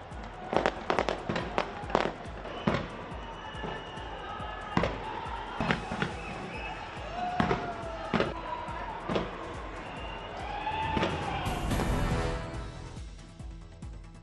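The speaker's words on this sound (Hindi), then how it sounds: "न्यू ईयर सेलिब्रेशन शानदार आतिशबाजी से रोशन हुआ स्काई टावर।" New Year fireworks burst over Auckland's Sky Tower as a string of sharp, booming cracks at irregular intervals, some in quick clusters, with faint crowd noise and whistling between them.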